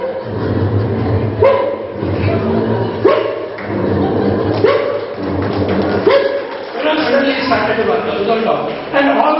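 A voice imitates dogs barking and yipping, producing a string of loud, rhythmic woofs and yelps in quick bursts, close to the microphone.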